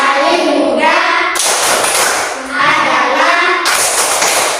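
A group of children and adults claps together in a rhythmic hand clapping game, sharp bursts of unison claps alternating with brief chanting voices.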